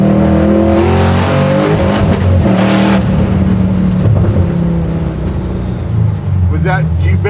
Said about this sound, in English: you bang rev limiter briefly